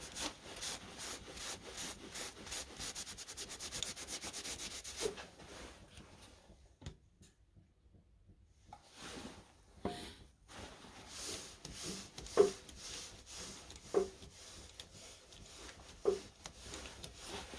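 Yorkshire Grit abrasive paste is rubbed onto beech spinning on a wood lathe, giving a quiet steady rubbing and friction hiss, pausing midway before resuming with a few light taps.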